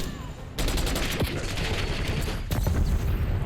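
Rapid bursts of AK-74 automatic fire in Black Ops 6, a dense loud fusillade starting abruptly and running continuously, with a brief gap before another heavy burst.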